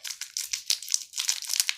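A plastic wrapper of Tiffany Creams biscuits crinkles and crackles in quick, close bursts, with no talking.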